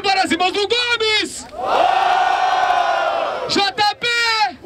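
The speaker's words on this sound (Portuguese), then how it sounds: "Barulho para as rimas do Gomes" Crowd at an outdoor rap battle in Barueri, São Paulo, shouting, whooping and cheering loudly in a sustained roar, framed by an MC's amplified voice before and after.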